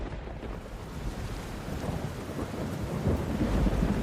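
Heavy rain pours down steadily on a forest while deep thunder rumbles through it, the storm growing a little louder toward the end.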